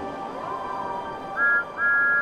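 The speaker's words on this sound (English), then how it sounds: "Hooray! Whistled Thomas." Thomas the Tank Engine's steam whistle sounds twice in quick succession, bright and fairly loud. The blasts follow a softer, wavering tone over a background of puffing locomotive noise.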